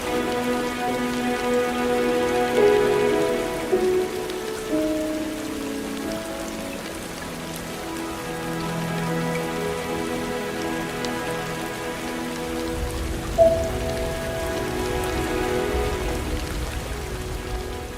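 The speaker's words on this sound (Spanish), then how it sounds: "una copiosa lluvia que caía sin tregua" Heavy rain falls without pause over a grey coastal city at night, a dense, steady hiss of drops on surfaces with a low rumble swelling near the end.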